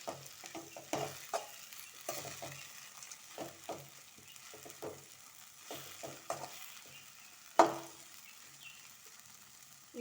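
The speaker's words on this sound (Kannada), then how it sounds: "ಮಾವಿನಕಾಯಿ ಈ ಆಯಿಲೊಂದಿಗೆ ಒಗ್ಗರಣೆಯೊಂದಿಗೆ ಚೆನ್ನಾಗಿ ಫ್ರೈ ಆಗಬೇಕು." Raw mango pieces frying in oil with a tempering for mango rice, a soft steady sizzle broken by repeated scraping stirs of a spoon against the pan, close and without talk.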